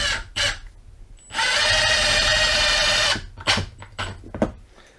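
A Milwaukee M18 FID2 Gen3 Fuel impact driver drives an 8-gauge, 2-inch screw into wood in one steady, loud whirring burst of under two seconds. Short clicks and handling knocks come before and after it.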